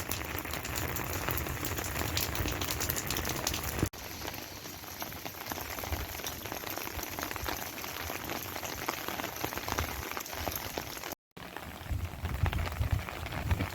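Cold, steady rain falling during a storm in metro Phoenix, Arizona, a dense continuous hiss with fine crackling patter, unbroken except for one brief cut near the end.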